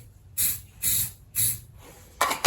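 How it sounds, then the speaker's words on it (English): Orange spray paint hisses from an aerosol can onto a Jeep CJ2A fuel-system bracket in four short bursts, the last two close together, each loud, close and alone. "take some of this orange paint that I used to paint the bracket that holds it down, and I'm going to spray it"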